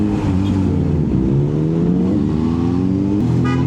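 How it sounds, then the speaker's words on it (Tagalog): Cars in busy traffic near SM Batangas heard from a moving Kawasaki Z H2 motorcycle, loud steady engine drone with shifting pitch as vehicles rev and pass close by. "Medyo marami lang kotse ulit."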